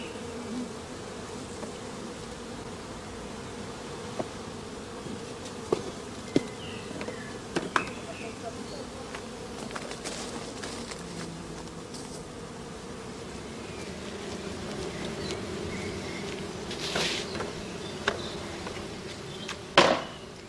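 A honeybee swarm hums continuously around a suspended queen cage, a dense, close, steady drone with occasional sharper taps and knocks over about twenty seconds.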